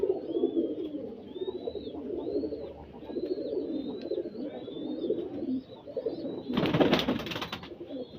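Kaldama pigeons coo close by in a low, rolling murmur, while thin high chirps repeat above it and a brief burst of flapping or rustling breaks in near the end.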